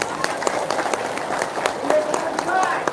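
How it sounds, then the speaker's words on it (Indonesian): Scattered audience applause with sharp, uneven claps at a religious talk on repentance prayer, moderately loud, with voices talking over it. "Tepuk tangan dulu."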